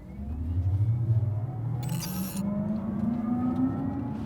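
A Kia EV6 electric car on the move gives off a smooth synthetic whirring hum whose pitch rises and falls steadily with speed, carried over road and wind rumble, with a short higher tone partway through.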